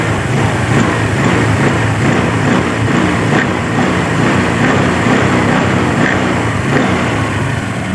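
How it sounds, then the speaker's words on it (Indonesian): Automatic scooter engine revving as the throttle is pulled, a loud close steady mechanical roar with dense rattling texture holding throughout. "Dan kita coba tarik tuas gas."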